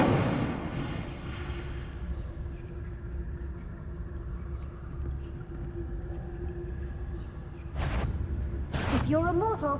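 The Incendio fire spell is cast in Hogwarts Legacy, two sharp whooshing bursts of flame near the end, set against a steady low rumbling backdrop.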